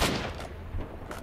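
Close gunfire in Stalker: Shadow of Chernobyl, in the abandoned city of Prypjat, comes as a rapid burst of sharp, overlapping shots filling a short moment.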